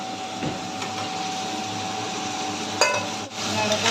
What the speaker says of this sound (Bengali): নাড়াচাড়া করবো, একটু নাড়াচাড়া করতে হবে